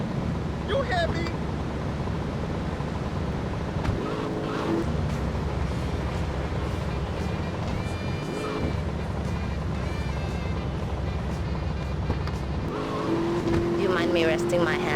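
A fast car grabbed from traffic in a Vice City mod of GTA drives with a steady, loud engine roar that holds throughout, with tonal swells and shifts as it speeds along the road.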